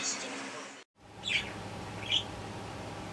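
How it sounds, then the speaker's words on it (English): Pet budgies give a few brief, bright chirps indoors at close range, with a short break in the sound early on and a soft hum in the room behind them. "These are some happy little birds."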